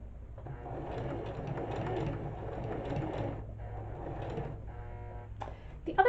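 Sewing machine stitching cotton fabric squares for reusable makeup remover pads, a close, steady mechanical whir with rhythmic needle clatter running in bursts, ending with a few louder clicks.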